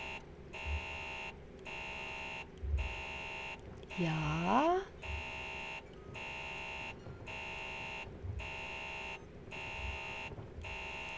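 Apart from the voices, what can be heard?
alarm blaring in the video game Alien: Isolation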